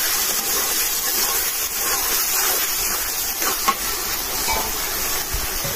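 Chana dal frying in a spiced masala of cumin and other ground spices for a quail egg and potato dish, giving a steady broadband sizzle and hiss throughout with a few brief pops, no talk.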